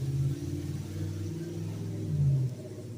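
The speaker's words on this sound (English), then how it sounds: "They still haven't fixed the exhaust on that FedEx truck" A FedEx truck with a faulty, loud exhaust rumbles nearby, its low engine drone steady for a few seconds and swelling briefly near the end before easing off.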